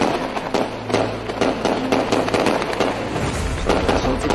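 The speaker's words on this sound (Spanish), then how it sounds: "se oyen los primeros disparos en la ciudad de Nayaf" Rapid gunfire crackles through the city of Najaf, Iraq, during a 2004 militia attack. Dense bursts of sharp reports repeat almost without pause and sound fairly loud.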